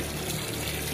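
Koi in a backyard pond splash and churn the water in a steady, close, continuous wash with no voices over it.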